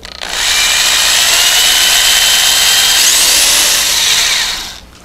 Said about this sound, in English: I drilled this clearance hole about a half to three quarters of an inch deep.